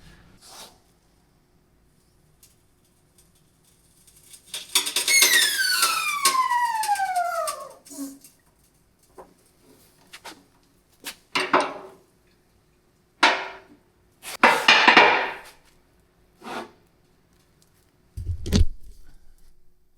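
A jack lets go beneath a freshly welded skidder-type push blade, giving a loud descending squeal followed by rough hissing bursts and scattered clunks and creaks as the load settles, with no talking.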